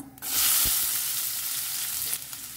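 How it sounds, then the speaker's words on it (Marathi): Chopped onion sizzling in hot oil in a pan with fennel seeds and dried red chilies, a steady loud frying hiss with a brief clatter near the start and no voices. "सो कानोनी आमकां जस्ट 1-2 मिनटां बरें फ्राय करून घेवंक जाय"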